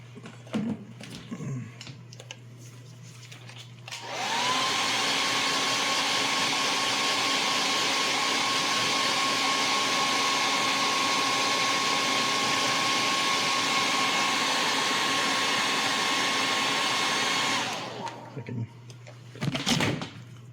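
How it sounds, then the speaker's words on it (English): A hair dryer switches on and blows with a steady loud whir for about thirteen seconds, then cuts off, with faint handling noises before and after. "Hit that with the hair dryer for a second."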